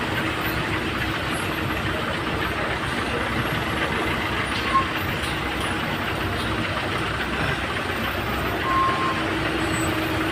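Trucks idle and creep forward in a traffic jam at Chakan Chowk, a steady dense rumble of engines with a brief faint squeal of brakes, continuous and fairly loud throughout.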